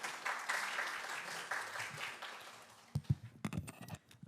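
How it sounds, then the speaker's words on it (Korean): Audience applause for a student presenter at a university innovation forum, a broad even patter of clapping for about three seconds before it thins into a few scattered louder claps. "큰 박수 부탁드리겠습니다."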